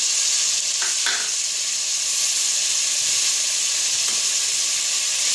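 Meat frying in a pan with garlic, giving a loud, steady sizzling hiss throughout, with a few faint stirring scrapes early on and no talking.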